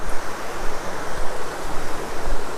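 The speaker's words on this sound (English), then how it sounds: "we've got this little rapids area you just see ahead of us here." Rapids on a river below Weldon Bridge, flowing in a wooded dell along a walking route, give a steady, broadband rushing roar of water that stays constant and fairly close throughout, with no voices.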